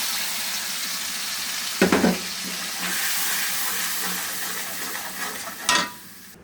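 Steady sizzling of onions, turmeric, chilli, ginger and garlic frying in a hot pan, with a couple of brief scraping stirs standing out above the constant hiss.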